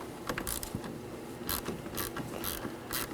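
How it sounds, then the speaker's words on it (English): A ratchet wrench clicks rapidly while loosening the 10mm nut on a car battery terminal of a 2018-2024 Chevrolet Equinox 1.5L, repeated bursts of close metallic ratcheting in a steady rhythm. "locate the 10mm nut for the terminal. Remove that."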